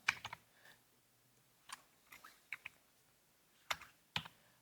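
Sparse, faint keystrokes on a computer keyboard while typing into POS sales invoice software, a handful of isolated taps and short pairs spread out with quiet gaps between them.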